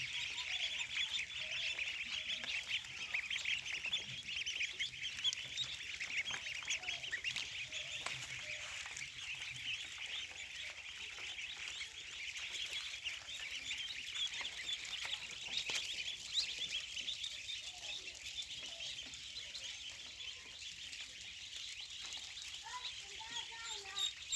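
Black-feathered ducklings at a hatchery in Mymensingh, Bangladesh, keep up a constant dense chorus of high peeping, steady and fairly loud, with a voice talking over it.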